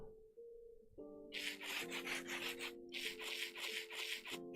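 Sandpaper rasps in the Minecraft modpack Stoneblock 3, a run of repeated gritty scraping strokes that start after a second and keep going over soft, sustained background music tones.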